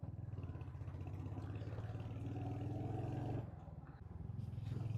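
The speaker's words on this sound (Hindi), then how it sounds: "आवाज आ रही है बाइक की" Motorcycle engine droning steadily while riding on a mountain road near Devprayag, a low rumbling hum with brief rises and a short dip before it picks up again, close and continuous with no talk over it.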